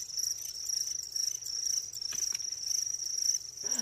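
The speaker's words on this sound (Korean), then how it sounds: "아이들 먹이로 귀뚜라미를 사용하고 있습니다" Crickets kept as feed for pet lizards chirp in a continuous high, shrill trill close by, with a few faint knocks and no talk.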